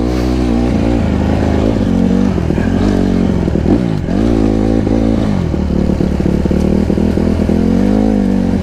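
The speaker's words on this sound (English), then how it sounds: "Oh, listen to it idle." A Honda CRF150RB dirt bike engine runs loud and close, a throbbing low idle with rapid pulsing and occasional uneven surges, steady throughout with no voices over it.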